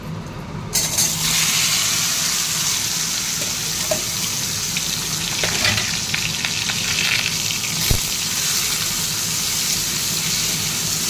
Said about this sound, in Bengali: আর এই যে তেল গরম হচ্ছে